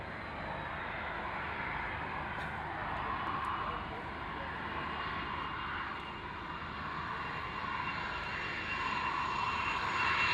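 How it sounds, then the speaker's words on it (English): Twin jet engines of an FA-18F Super Hornet roar steadily at an airshow as the fighter taxis, a loud continuous broadband rumble and whine with slight swells, with voices faintly beneath. "take great note as it taxis back. You're going to really enjoy this. The power of their engines, quite like the FA-18 Super Hornet, here the FA-18F model displayed by Stephen"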